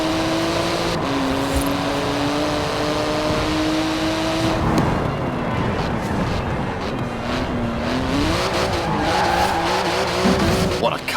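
A 700-horsepower 3.8-litre twin-turbo flat-six carbon-fibre car races in Forza Horizon 4 on Edinburgh streets, its engine revving up through gears with loud tyre squeals and skids, while someone talks over it.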